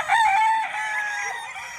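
A White Kelso rooster crows once, a short, clear cock-a-doodle-doo rising and then trailing off, fairly close and alone without talk.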